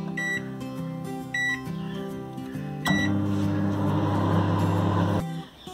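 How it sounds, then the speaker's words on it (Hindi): A microwave oven is set for an eggless mug cupcake: a few keypad beeps, then a steady close hum of the oven running for a couple of seconds before it stops. "अब हम इसको 2 मिनट के लिए माइक्रोवेव में डाल देंगे"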